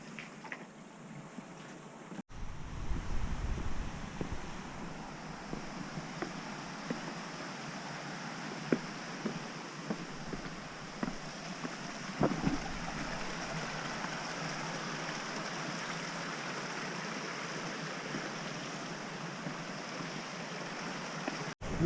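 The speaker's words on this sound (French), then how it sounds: "Il y a de l'eau qui coule à l'intérieur." Steady rushing of water flowing inside an ancient primeval forest, a continuous broadband wash that stays even and moderately close throughout, with no voices present.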